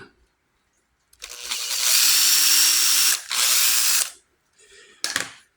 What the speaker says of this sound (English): I take and drill it.